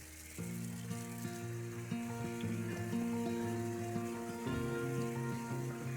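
Water is wrung from high-quality Swiss Tropicals filter sponges while a DIY sump aquarium filter is cleaned, giving a steady, faint, sizzling trickle that runs continuously with no voices over it.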